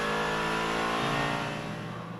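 GT Masters race car, Lamborghini Huracan-class GT machine, heard on board at the Red Bull Ring, a loud high engine howl dropping in pitch under heavy braking into a turn, continuous and close.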